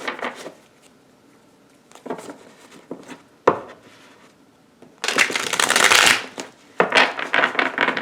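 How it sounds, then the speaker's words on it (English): A deck of cards is shuffled in several quick riffling bursts, close and crisp, with brief pauses and handling noises between them. "Let's shuffle these cards for Aquarius."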